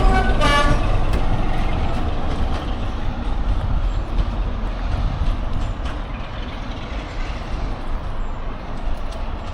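Train on the Midland Railway heading off to collect carriages, a steady loud rumble of engine and wheels throughout with a horn toot near the start.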